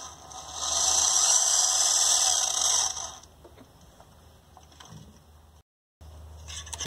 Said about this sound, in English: Oh, there is a motor in there.